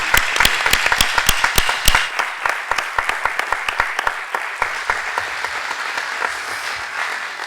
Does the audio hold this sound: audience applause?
yes